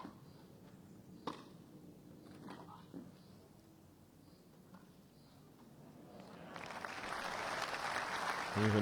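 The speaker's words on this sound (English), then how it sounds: "Even draws the applause from his opponent." A tennis crowd's applause swells from a quiet court during a Janowicz v Dimitrov match, building steadily and growing loud toward the end, with a few sharp hits and murmurs earlier.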